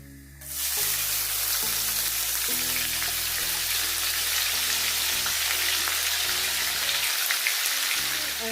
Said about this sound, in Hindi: अब हम बस इसको फ्राई करेंगे जब तक कि प्याज हमारी थोड़ी सी ब्राउन ना हो जाए